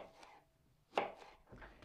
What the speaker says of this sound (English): All we're going to do is just slice them away from the core.